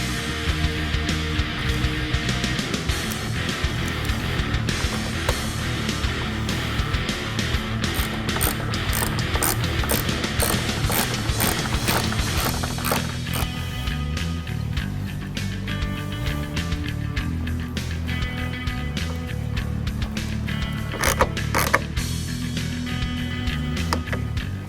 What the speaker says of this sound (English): Now we can reinstall the bolt securing the headlight.